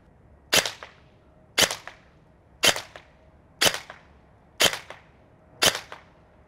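A G&G Cobalt Kinetics AR15-style AEG airsoft rifle firing 0.2 gram BBs on semi-auto: six sharp, close cracks at an even pace about one second apart, each followed by a short mechanical decay, no talking.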